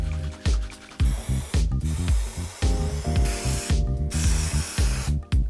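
An aerosol can of glue adhesive sprays onto wooden panels with 45-degree edges for folding magnetic cabinet doors, giving repeated loud hissing bursts over a rhythmic backdrop of music.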